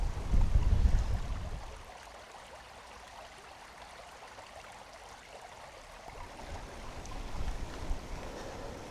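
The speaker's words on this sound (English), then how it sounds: "It's really windy" Strong wind buffets the microphone in heavy rumbling gusts at the start and end, with steadier blowing in between, during a bikepacking ride.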